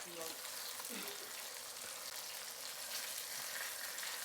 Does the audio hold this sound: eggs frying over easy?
yes